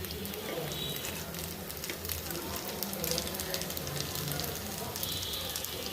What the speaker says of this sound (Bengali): এখন আবার কিছু ভেজে নিলাম